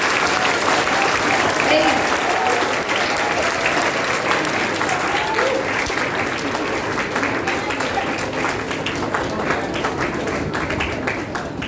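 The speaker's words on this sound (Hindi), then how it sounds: "जोरदार तालियां, भाई तालियों की आवाज़ से आ रही है।" A large audience gives loud, sustained applause to welcome a city official at a talk show event, a dense continuous roar of clapping with some crowd noise, lasting throughout, with a voice speaking over it.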